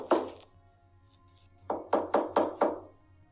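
A door is knocked on in an audiobook sound effect: one isolated knock, a pause, then a quick run of five firm, close knocks over a low steady hum.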